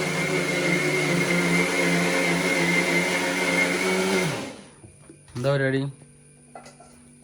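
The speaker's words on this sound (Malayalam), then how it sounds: "മമ്മിയുടെ മാങ്ങ അരിയുന്നുണ്ട് ജ്യൂസ് അടിക്കാൻ വേണ്ടിയിട്ട്" A kitchen blender whirs loud and steady while whizzing mango into juice, runs for about four seconds, then winds down and stops, followed by a short spoken phrase.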